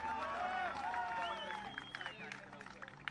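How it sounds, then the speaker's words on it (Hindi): At an awards gathering honouring a golf team, an audience claps and lets out a few rising whistles over a hum of voices. The sound stays fairly faint and thins into sparse claps by the close. "सीटियां तालियां तो हो गई हैं"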